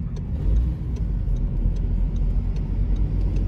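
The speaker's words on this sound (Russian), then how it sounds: "Отъезжаем от аэропорта." A car pulls away from the airport on Crete, its engine and road noise a steady low rumble from inside the cabin, with faint regular ticking, like a turn signal, over the top.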